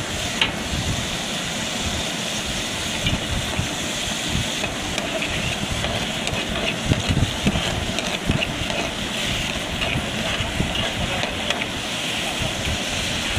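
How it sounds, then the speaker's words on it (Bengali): Onion fries in a pan with a steady, moderate sizzle and hiss, broken by occasional scraping and stirring noises throughout. "এখন পেঁয়াজটা একটু ভেজে নেব"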